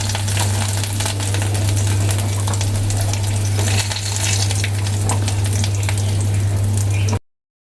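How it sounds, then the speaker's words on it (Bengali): Bata fish fry in oil with a loud, continuous sizzle up close, over a steady low hum, with faint clinks of utensils before it cuts off. "এই মাছগুলো ভাজা হয়ে গেছে,"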